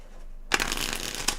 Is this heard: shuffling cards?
yes